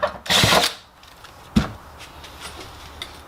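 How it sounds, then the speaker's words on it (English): A power drill bores holes in a fan shroud for mounting brushless dual fans in a 350Z build: a half-second burst near the start, then a shorter sharp burst, separated by quiet shop pauses. "Now we're going to drill the holes so we can mount the fan."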